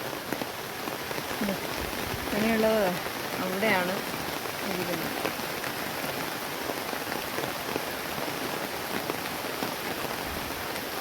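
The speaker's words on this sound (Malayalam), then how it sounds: "നല്ല മഴ പെയ്തുകൊണ്ടിരിക്കുകയാണ് കേട്ടോ." Steady heavy rain falls in a constant, fairly loud patter on a flooded road while a person speaks briefly over it.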